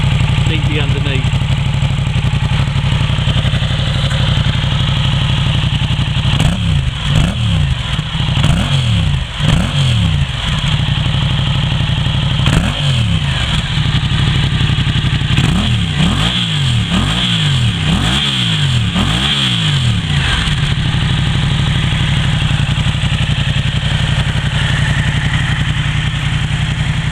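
Motorcycle fitted with an Akrapovic exhaust idling and then blipped through several sharp revs in quick bursts, loud and close, with steady engine rumble between.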